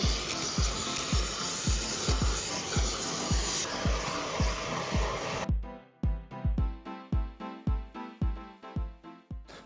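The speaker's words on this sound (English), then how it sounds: "The vacuuming is coming along nicely." A vacuum cleaner works inside a VW Passat, its steady rushing hiss running for about five seconds before cutting off, over an evenly pulsing rhythmic beat that keeps going alone afterward.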